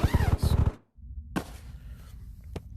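Distant gunfire comes from players in contact in the Ghosts of Tabor video game, heard as a few faint, isolated shots after a short burst of talk, with a quiet gap between them.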